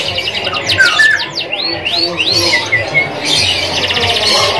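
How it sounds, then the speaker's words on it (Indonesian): An F1 canary in panda coloring sings busily at a bird kiosk, a close run of bright chirps, whistled sweeps and trills with faint squawks from other birds behind it. "Inilah pantauan untuk kenari F1 warna panda, gacor banget."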